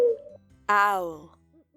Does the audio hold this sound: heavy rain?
no